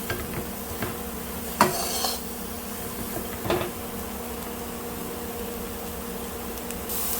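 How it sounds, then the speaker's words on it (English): Egg roll in a bowl mixture with garlic and onion powder sautéing in a pan, a low steady sizzle broken by a few sharp spoon scrapes and clanks against the pan. "And I'm just going to let it saute down for a little bit."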